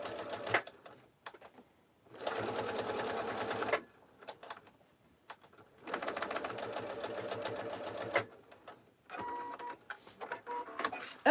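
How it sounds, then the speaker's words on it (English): A sewing machine stitches down a swivel hook strap on a tote bag in three bursts of steady, rapid needle clatter separated by pauses filled with faint handling noise. "I'm going to sew that down the exact same way I sewed my slider on."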